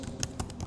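A few quick keystrokes tap on a computer keyboard as a query is typed, close and fairly quiet in a brief burst.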